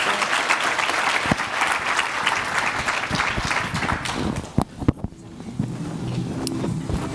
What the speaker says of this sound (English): So a round of applause, please, for the panelists.